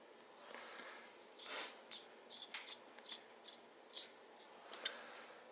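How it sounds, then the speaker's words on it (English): Scissors cut something open in quiet, close snips: a longer slice followed by a series of short, crisp cuts spaced irregularly, with no other sound around them. "Cutting it open."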